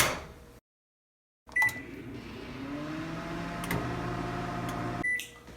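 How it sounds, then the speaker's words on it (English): A microwave oven cooking bacon hums steadily after a beep and a click, with a door sound and another beep near the end. "pop it in the microwave for 2 minutes and then check"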